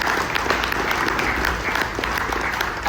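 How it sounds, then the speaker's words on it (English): Outdoor crowd applause for museum staff at a Corvette gathering, steady dense clapping for a few seconds, fairly close and loud. "let's do one more round of applause"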